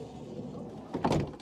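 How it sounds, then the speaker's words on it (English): Side sliding door on a VW T4 Autosleeper camper van being opened: a short rumbling slide and clunk near the end, close and fairly loud over quiet background. "just going to open the side door"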